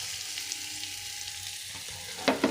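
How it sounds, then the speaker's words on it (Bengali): Finely chopped onion and ginger fry in oil with a steady, close sizzle, followed by a couple of sharper stirring clatters near the end. "এবার সেই তেলের মধ্যে দিয়ে দেবো হচ্ছে একদম কুচি করে কাটা পেঁয়াজ, আর সঙ্গে একদম কুচি করে কাটা আদা।"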